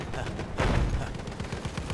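Covering gunfire in Battlefield 1, a short volley of shots with a heavier blast in the middle, loud and close amid game noise.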